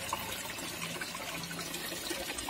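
Pump-fed water pours steadily over a small waterfall into a shallow fish pond, a dense, continuous splashing rush that stays close and even throughout with no talking.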